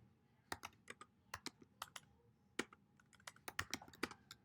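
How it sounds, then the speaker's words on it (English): Fingers type on a computer keyboard: quiet, close, irregular clicks and taps in short bursts, with no voices. "what we're going to do is basically type in the same thing"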